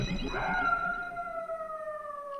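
A dog in the video game Gal Metal lets out a single drawn-out howl that slowly falls in pitch over about two seconds, heard clearly with no talk over it.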